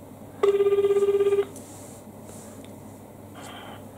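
A telephone rings out while calling a pizza shop to order: a single burst of rapid, pulsing electronic ringing about a second long, fairly close and clear, followed by quiet line hiss.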